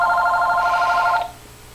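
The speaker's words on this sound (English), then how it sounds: "It's gonna ring again." A household telephone rings with one steady electronic trill that cuts off after just over a second, loud and close, followed by quiet room tone.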